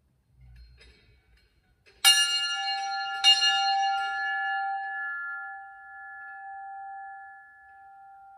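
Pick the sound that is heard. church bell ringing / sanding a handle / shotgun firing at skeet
church bell ringing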